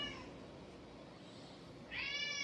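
An indoor cat gives a short meow near the end, faint at first and then clearer, over low background noise.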